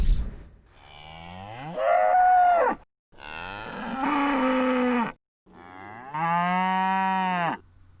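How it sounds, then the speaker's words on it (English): Cattle moo three times, long loud calls from different cows, each drawn out with clear rising and falling pitch and short silences between. "These cattle calls may sound similar, but they come from different cows in different situations."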